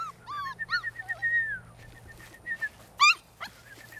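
Four-week-old puppies whimper and yip close by in a series of short, high, wavering cries with brief pauses, quiet overall with a low hum underneath.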